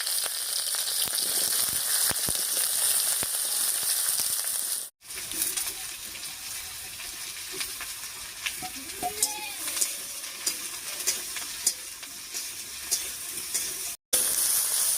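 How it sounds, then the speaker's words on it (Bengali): Potato, carrot and eggplant pieces fry in a pan with whole cumin, bay leaf and green chillies, giving a loud continuous sizzle broken by scraping and clattering stir strokes, close up with no voices. "সব সবজিগুলো দিয়ে একটু নাড়িয়ে নিলাম।"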